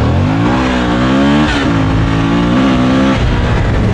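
Suzuki V-Strom 1000 motorcycle engine revving loudly and steadily close by, its pitch rising and falling through several throttle swells over a few seconds with no talking.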